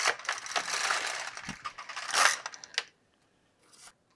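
The carriage of an LK150 knitting machine is pushed across one row. It makes a close, rattling mechanical clatter for nearly three seconds, then stops, and a short faint scrape follows.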